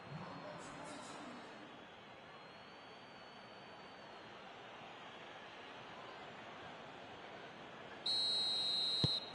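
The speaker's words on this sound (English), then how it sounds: "Referee looks at his watch and blows his whistle." A referee's whistle sounds in a PS4 football match, a sharp sustained blast near the end, with a brief earlier chirp, over crowd noise and a commentator speaking.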